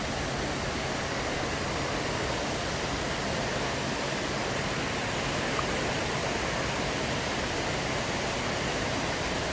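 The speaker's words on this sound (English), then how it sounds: "I could sit here for a long time and just listen to the waterfalls." A steady, broadband roar of rushing water from waterfalls at Animal Kingdom fills the whole stretch without a break.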